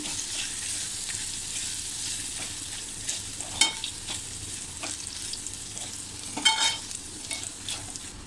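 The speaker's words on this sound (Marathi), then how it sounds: "छान आपण असं ढवळून घेऊ म्हणजे सगळा तो आल्या जे आपण आल्या वापरला आहे त्याचा पूर्ण कच्चेपणा निघून जाईल" Ginger and peppercorns frying in a pan for a curd kadhi, a continuous hiss of oil with a few sharp spoon scrapes and taps as they are stirred, nearby and without voices.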